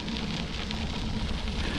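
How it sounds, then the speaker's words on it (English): Light rain sprinkles falling outdoors along a canal bike trail, a soft continuous patter with faint scattered drop ticks. "Got a little bit of sprinkles going on, nothing dramatic."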